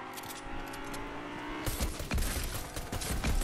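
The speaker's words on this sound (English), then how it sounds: "Oh, we're getting shot at." Video game gunfire, a burst of rapid shots that starts abruptly partway through and continues loud and dense over the remaining background game sound.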